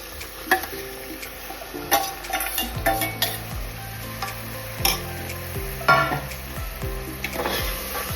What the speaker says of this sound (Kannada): ಎಲ್ಲವನ್ನು ಫ್ರೈ ಮಾಡಿಕೊಂಡ ನಂತರ ಅದಕ್ಕೆ ನಾನು ಮಟನ್ ಹಾಕ್ತಾ ಇದ್ದೇನೆ